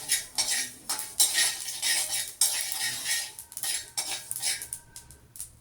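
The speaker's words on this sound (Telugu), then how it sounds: "ఇప్పుడు నువ్వులు కొద్దిగా సౌండ్ రాగానే స్టవ్ ఆఫ్ చేస్తే సరిపోతుంది." Sesame seeds roasting in a pan for peanut chikki, heard as brisk metallic scraping and stirring strokes in quick bursts, loud and close, with faint light crackling between them and no speech.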